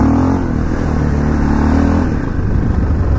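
KTM LC4 640 motorcycle engine revving hard as the bike lifts into a wheelie, a loud continuous rising engine note filling the short clip with wind rush behind it.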